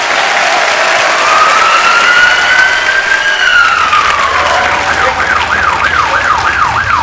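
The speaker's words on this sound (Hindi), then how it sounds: "जोरदार तालियां हो जाए एक बार।" A studio audience at a comedy talk show bursts into steady, loud applause, with a rising whistle and a wailing siren-like effect sweeping over the clapping.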